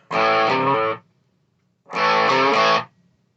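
Electric guitar notes played through a noise gate pedal on a Boss pedalboard, heard as two distorted strummed bursts about a second long, each cut off sharply into near silence as the gate closes.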